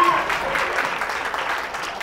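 Studio audience applauding on a Catalan TV word-game show, a steady wash of clapping filling the brief moment at moderate loudness.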